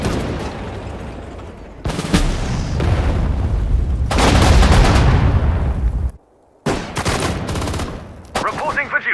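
A destroyer firing its guns in the WWII strategy game Sudden Strike 4 at Dunkirk: loud booming volleys and rattling bursts in several bouts, with a short silent gap before firing resumes.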